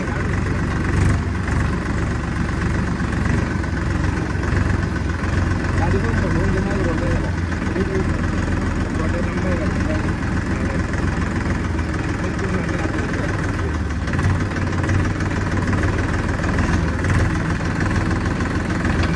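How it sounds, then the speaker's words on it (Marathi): A tractor engine runs continuously at a steady low rumble, loud and close, with faint voices beneath the engine noise. "ट्रॅक्टर चालवतो पहिला"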